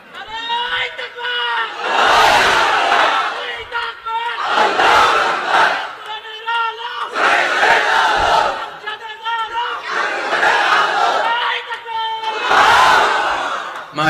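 A large crowd at an outdoor Islamic religious gathering shouts takbir in unison, with five loud, sustained roaring call-and-response waves at a steady rhythm. A leader's voice calls between the crowd's answers.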